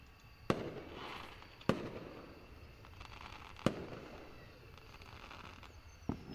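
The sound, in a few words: fireworks in the video game Angels with Scaly Wings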